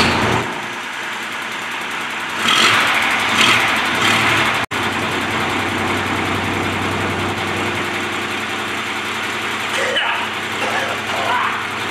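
An old Ford industrial diesel engine running loud and steady at close range, a continuous rough drone with brief swells and a sharp click partway through.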